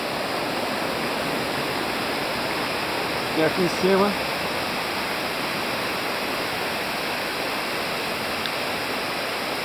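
Cachoeira Alta waterfall flowing as a steady, loud, broadband rush of falling water, unbroken throughout, with someone briefly speaking over it.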